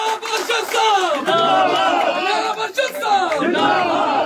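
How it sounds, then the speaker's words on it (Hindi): Crowd of Gujjar Bakarwal supporters at a BJP political rally in Jammu and Kashmir, cheering and shouting loudly in a sustained roar, with a few brief dips, much like a collective chant. "अरशद चौधरी साहब का हम खैर मकदम करते हैं बीजेपी में, जोरदार तालियों के साथ"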